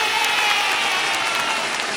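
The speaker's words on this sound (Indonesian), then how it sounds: "Iya, beri tepuk tangan." An audience at a talent show claps for the winner, a dense, sustained wash of applause held at a steady, fairly loud level throughout.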